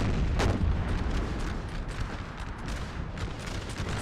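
Napoleonic artillery in a Napoleon Total War battle fires a continuous stream of booming cannon shots and rumbling volleys, mixed with distant gunfire, with no one speaking over it.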